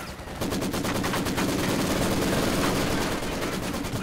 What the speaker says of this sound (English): This vet 3 LMG Grandy is taking no prisoners.